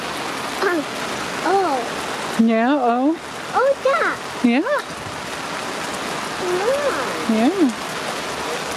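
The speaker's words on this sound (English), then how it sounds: "No, it's raining" Steady rain falls around a camping trailer on a cold Thanksgiving outing, a constant hiss under close voices that talk and exclaim throughout.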